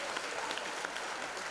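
A live audience claps for itself in a steady, even round of applause, a dense continuous patter of many hands heard from within the crowd at moderate volume.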